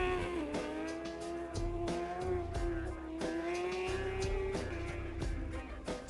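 A racing motorcycle at NJMP building speed toward the front straightaway, a loud continuous engine whine rising steadily in pitch with brief dips at gear changes, close and alone.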